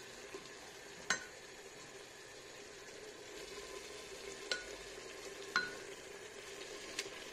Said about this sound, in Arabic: ونحبك نخليها شويه هكا تتقلى هي تاني